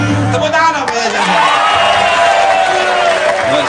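A studio audience at an Indonesian TV talk show breaks into loud, dense applause mixed with cheers and whoops. It holds steady for several seconds over a busy crowd hubbub.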